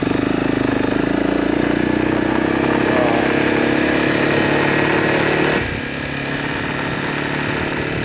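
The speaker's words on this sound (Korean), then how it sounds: "오토바이가 못 올라갑니다" A motorcycle engine drones steadily at high revs, labouring uphill on a high-altitude road in Kyrgyzstan's Tian Shan mountains, then the pitch drops and eases slightly near the end.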